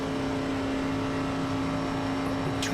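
On-board audio from a stock car in a Friday night speedway stockcar race, the engine droning loudly and steadily throughout with a constant drone, close and alone with no voices.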